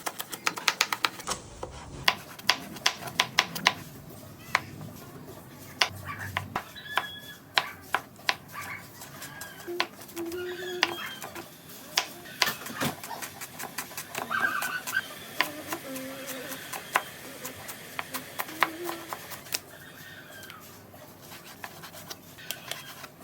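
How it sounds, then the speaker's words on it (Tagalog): Dull knife chopping cabbage, beans, bell pepper, carrot and onion for egg noodle pancit: a steady run of sharp, irregular knife taps on a board, close and moderately loud, continuing throughout with no talk. "mag-uumpisa na akong maghiwa ng mga ingredients na ilalagay ko sa pansit"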